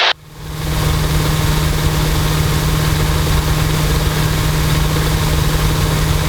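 A Luscombe light aircraft engine runs steadily at about 2,300 RPM, a loud constant droning hum with a strong low tone that holds unbroken after a brief opening moment, with no voices.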